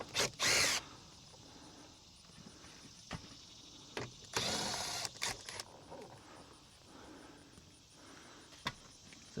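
Bolts being removed from a window regulator on a 2001 Buick, with short bursts of a whirring power driver separated by quiet gaps, plus light clicks and clanks of metal parts nearby.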